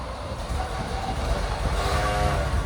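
A 1955 Ford Crown Victoria with a 292 V8 and Flowmaster Flow FX exhaust, heard as a close, continuous throaty engine rumble that grows a little fuller toward the end, with no talking over it.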